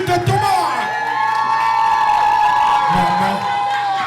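Wedding guests in Rennes cheer and shout for the bride, a loud, close crowd roar with whoops and sustained voices rising over a steady background hum, lasting the whole moment without clear clapping.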